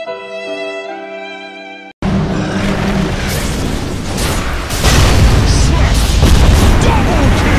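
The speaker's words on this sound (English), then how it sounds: "Radiant's middle tower has fallen." A tower is destroyed in Dota 2: after a short musical cue, a loud, heavy explosion booms and crumbles, followed by sustained rumbling debris and battle noise that swells louder toward the end.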